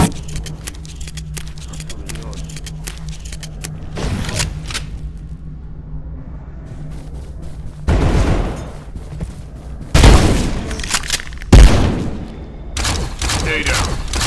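Gunfire and explosions in the video game Abiotic Factor, including a frost shotgun: several sharp heavy blasts and thuds among bursts of rapid shots over a constant low hum, with people talking.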